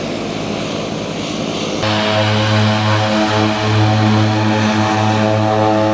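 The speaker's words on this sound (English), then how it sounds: "This is the airport that I told you about. It's the most dangerous airport in the world." Propeller airplane at a mountain airport with an extremely short runway of about 800 meters: a quiet opening, then a loud, steady engine drone with strong low harmonics from about two seconds onward, sustained and close.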